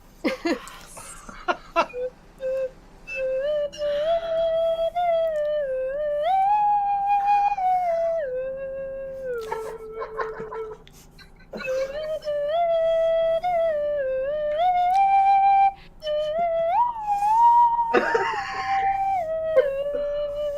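A voice imitates a penny whistle, carrying the slow Titanic melody as a clear, wavering tune in two long phrases with a short break between them, close and fairly loud.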